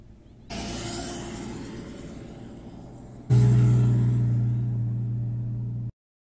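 Lexus RX 330 driving across sand, a continuous engine rumble that grows louder and heavier partway through as the vehicle pushes on, heard close with no talk.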